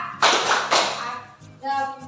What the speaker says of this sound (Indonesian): selanjutnya tepuk cinta